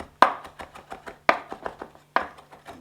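A knife chops fresh herbs for stuffed mushrooms on a cutting board. Three loud, sharp chops are each followed by a run of lighter, quicker cuts, heard close and with no one speaking.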